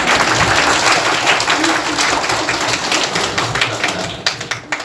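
A church congregation applauding loudly during a Sunday service, dense clapping that fades toward the end into a few scattered claps.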